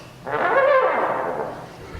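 A trombone blares a bent, trumpeting call that mimics an elephant, swelling loud for about a second and then fading.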